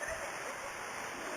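Water rushing and splashing down a small indoor hotel water slide, a dense, steady wash of noise that fills the whole short moment.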